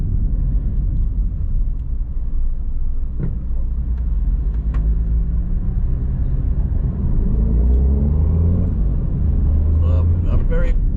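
A car drives along busy Marcus Garvey Drive in downtown Kingston, Jamaica, with a steady loud engine and road rumble heard from inside the vehicle, plus faint passing traffic.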